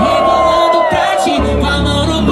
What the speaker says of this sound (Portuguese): E o grito dos homens.